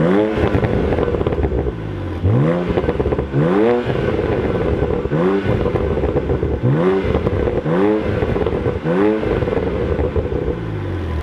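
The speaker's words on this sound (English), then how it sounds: "I got a couple of pops and bangs out of my own exhaust." A BMW Z4 at a car meet in a car park revs repeatedly in short bursts, each rev rising and falling with crackling exhaust pops and bangs in between, loud and close.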